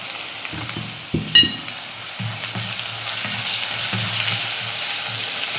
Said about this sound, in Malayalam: കൂടെ തന്നെ വെളുത്തുള്ളി ഇട്ട് കൊടുക്കാം ഇവിടെ തന്നെ നമുക്ക് ചെറിയ ഉള്ളി ചതച്ചെടുത്ത് വെച്ചത് ഇട്ട് കൊടുക്കാം